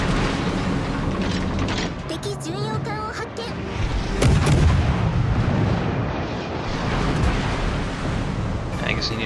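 Warship artillery booms in World of Warships, heavy naval gunfire rolling in repeated bursts under steady battle noise, with a voice talking over it throughout.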